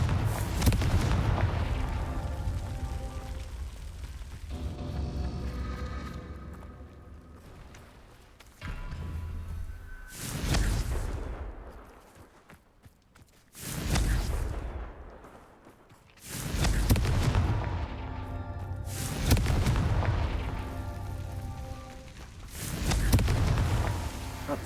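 Confringo fire spell blasts in the Hogwarts Legacy video game, a series of loud booming explosions roughly every few seconds, each a sharp burst that rumbles and fades before the next, with no talking.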